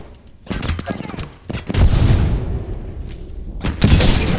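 Gunfire in the Apex Legends battle royale game, bursts of shots and booming impacts coming in clusters with short gaps, loud and close, while a player talks excitedly over the action.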